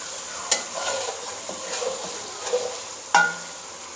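Karahi frying in oil in a pan, with a continuous sizzle under occasional sharp scrapes and clinks of stirring, the loudest knock near the end.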